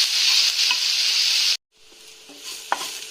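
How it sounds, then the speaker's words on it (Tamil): Grated Indian gooseberry sautés with turmeric and salt in a pan, a close frying hiss with stirring that cuts off abruptly, then quieter sizzling and a few utensil clinks. "இப்போ மஞ்சத்தூள், உப்பு, துருவி வச்சுட்டு நெல்லிக்காய் போட்டு நல்லா வதக்கிக்கணும்."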